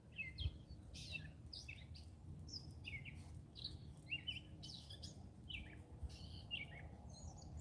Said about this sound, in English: You hear that bird singing?